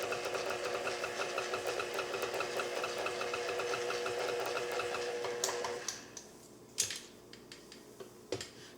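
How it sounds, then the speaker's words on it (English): A stand mixer briefly spins pizza dough ingredients, a steady motor whir with rhythmic ticking that runs for several seconds and then stops, followed by a few sharp clunks and knocks. "we're going to put this into the stand mixer. I just give this a few spins just to kind of mix everything together."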